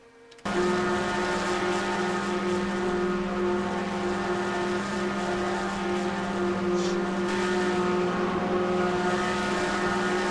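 Race cars at Daytona in a sim racing league game: steady, loud engine drone with sustained high-revving tones from cars running close together, constant throughout with no pauses.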